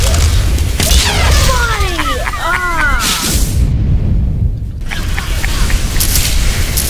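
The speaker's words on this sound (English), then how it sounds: "watch out, grenade." Grenade explosion in Team Fortress 2 payload gameplay, a heavy boom amid dense loud game noise, with other battle sounds around it.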